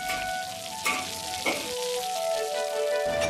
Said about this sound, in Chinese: 下锅炸至酥透，